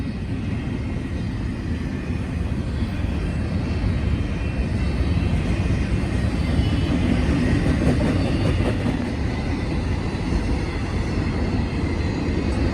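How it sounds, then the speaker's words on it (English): A long CSX freight train hauled by two locomotives rolls past on Union Pacific track in Benson, Arizona, a loud, steady rumble and rattle of wagons that holds unbroken from start to finish. "This is a long train for 2 engines."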